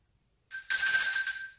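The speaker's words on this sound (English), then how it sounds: "the bell will be ringing." A bell rings in a steady, bright tone that starts suddenly, swells after a brief lead-in and rings on loud and near with no voices.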